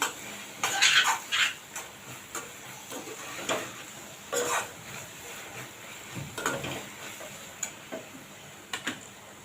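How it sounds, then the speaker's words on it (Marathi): Cooked rice being spooned into an onion-tomato mixture in a pan for Indian tomato rice, with scattered light clinks and scrapes of a utensil against the pan, irregular and fairly close, with no talking. "आपण आता याच्यामध्ये भात घालून घेऊया"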